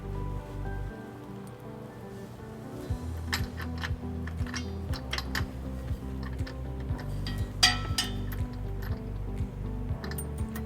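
Small metal clinks and taps ring out irregularly as a conical washer and nut are fitted onto a trailer hitch bolt under a 2017 Jeep Cherokee, close and fairly quiet over a steady low hum.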